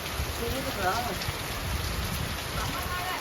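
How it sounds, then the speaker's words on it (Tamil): Heavy rain pours down in a steady, dense hiss that never lets up. "செம மழை."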